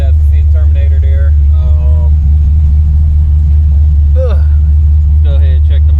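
A loud 1984 Chevrolet Caprice engine runs in a continuous deep rumble, steady and close throughout, with voices talking over it.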